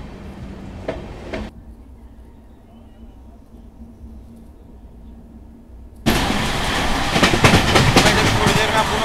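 A WAG9H electric locomotive hauling the Amritsar–Saharsa Garib Rath Express: muffled hum of a moving train, then a sudden loud rush of rolling wheels and rattling carriages as a door or window opens, with a voice briefly heard early on.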